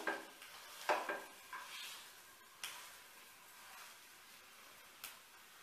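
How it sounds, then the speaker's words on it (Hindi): Potatoes fry gently in a pan, a soft, faint sizzle broken by a few light stirring scrapes and metallic clicks of a utensil against the pan, close by with no voices. "अब मैं अपने आलू को डाल दे रही हूँ और आलू को हम अच्छी तरह से फ्राई कर लेंगे"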